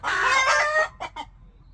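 A native Korean chicken near a brooding hen with ten-day-old chicks gives a loud, close, drawn-out call followed by two short clucks.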